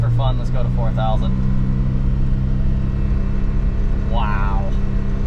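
Off-road vehicle engine on a rock-crawling rig with a 3:1 transfer case, revving steadily to about 4,000 RPM, a loud continuous low rumble throughout, with brief talk over it near the start and end.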